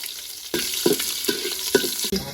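Onions fry in hot oil with bay leaves in a wok for a rustic village-style dish, giving a steady close sizzle broken by several rhythmic stirring scrapes.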